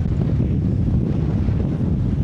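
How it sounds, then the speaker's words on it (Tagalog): Strong wind buffets the microphone in a continuous low roar on Fortune Island, Nasugbu, Batangas, Philippines, steady and loud throughout with no other sounds standing out. "Sobrang lakas ng hangin."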